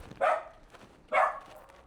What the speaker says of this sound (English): That's a nice dog.